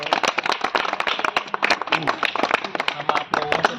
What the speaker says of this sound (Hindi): जोरदार ताली बजाइए आप लोग।